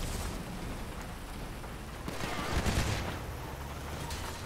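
Rapid bursts of gunfire in the game GTA 5, a dense continuous rattle that swells louder near the middle, with no talking.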